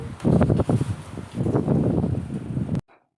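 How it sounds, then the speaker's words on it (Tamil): Strong, gusty wind roars and buffets the microphone in loud surges for nearly three seconds, then cuts off abruptly to near silence. "காற்று நல்ல ஒரு பிரளயமாக காற்று வருது"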